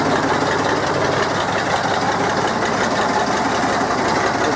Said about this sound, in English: she's having a nice chugging away, nice three-cylinder Ruston